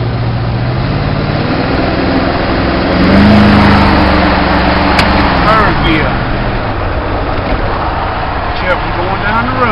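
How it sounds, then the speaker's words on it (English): Small manual Honda street car in second gear driving down a road, a steady engine drone with a brief rise in revs, heard from inside the car with a person talking over it. "This little Honda here is a slow street car."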